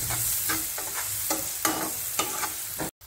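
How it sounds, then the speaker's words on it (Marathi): Finely chopped onion sautéing in hot oil with a little turmeric for jhunka paneer, a steady close sizzle broken by several scraping stirs of a spoon against the pan, ending in a brief cut to silence. "आता टाकूया ह्यामध्ये बारीक चिरलेला कांदा आहे, कांदा त्याला परतून घेऊया"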